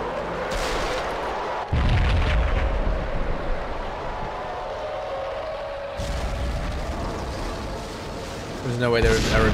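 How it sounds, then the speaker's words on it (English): A bomb blast inside a slum building in the Max Payne game, a loud low boom followed by rumbling debris, with someone narrating over the background. "Another bomb exploded inside the closest slum building."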